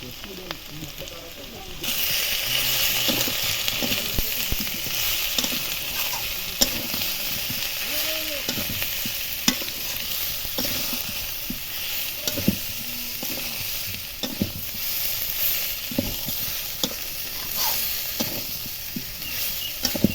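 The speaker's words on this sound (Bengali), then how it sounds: "মশলাগুলো খুব সুন্দরভাবে কষে গেছে আলুর সাথে" Spices and potatoes sizzle steadily in hot oil for a pangas fish curry, with a continuous bright frying hiss and occasional stirring scrapes and clinks close by, running on for a long stretch.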